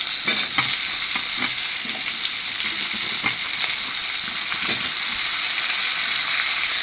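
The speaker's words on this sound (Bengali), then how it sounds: "এবার আমি এর মধ্যে দিয়ে দিচ্ছি ঝিঙেগুলোকে।" Ridge gourd sliced for a thin fish curry sizzles steadily in hot oil in a pan, with a dense continuous hiss broken by irregular scraping stirs of a spatula, close and loud, no voices.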